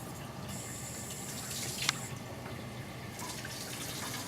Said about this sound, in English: we're going to use some nice warm tap water